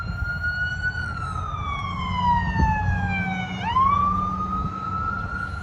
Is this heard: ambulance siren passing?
yes